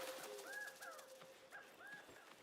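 A bird coos softly in the video game Soulframe, several short repeated coo phrases over a faint, steady background hum, with no talking.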